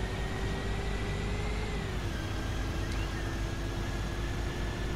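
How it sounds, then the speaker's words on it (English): Bus engine in Bus Simulator 21 drives at a steady mid-range drone with a faint whine that dips slightly as revs ease, loud and continuous with no voices. "One thing I like about this bus though as well is of how nice it actually sounds."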